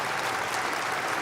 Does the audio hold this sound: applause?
yes